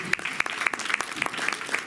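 Light applause from a small audience in a room during a mentalism show, with a few loud individual claps in a steady rhythm over thin background noise; quiet and fairly close, lasting about two seconds.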